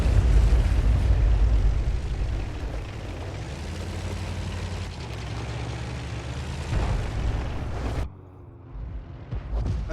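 Artillery shells burst in World of Tanks, fired around an AMX 13 F3 AM self-propelled gun: heavy, rumbling booms fill the scene loudly and continuously before cutting abruptly to a quieter, lingering rumble near the end.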